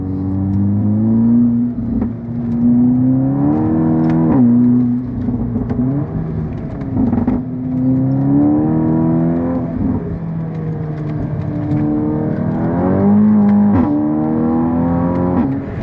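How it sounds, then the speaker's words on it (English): A VW Golf GTI TCR's turbocharged engine pulls hard under acceleration, its steady loud drone climbing in pitch through repeated rises with brief dips at gear changes, heard from inside the car. "the engine pulls, the turbo spools up very quickly, and it pulls all the way to the red line"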